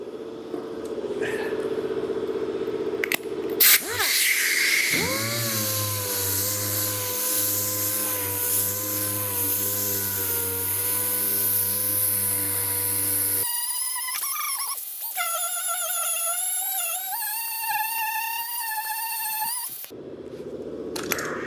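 A power sander with 240-grit paper smooths a rusty car body panel during rust repair, giving a steady, loud mechanical whine that holds for several seconds and then shifts to a higher, wavering pitch before stopping.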